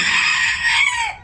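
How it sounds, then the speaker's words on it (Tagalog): A single close, loud, drawn-out crow from a rooster, ending in a falling tail. "nagpapakain ako ng aking mga alagang manok"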